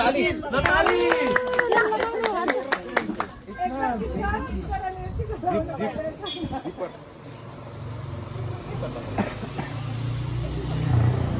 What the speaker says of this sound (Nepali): ल ताली